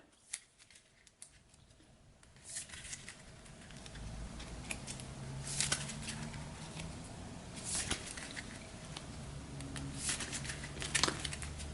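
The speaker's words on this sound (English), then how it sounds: "so we'll give this a quick shuffle" Board game cards shuffled by hand at close range, a soft run of riffling and flicking that swells and fades in quiet bursts, with a few sharper taps.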